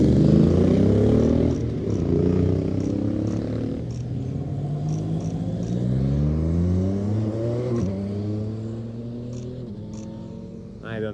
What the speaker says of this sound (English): suddenly a big motorcycle train